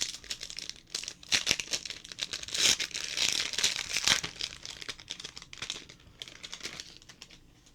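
Crinkly foil trading card pack wrapper being torn open and crumpled up close, a run of sharp crackles and rustles that rise and fall over several seconds, with no voices.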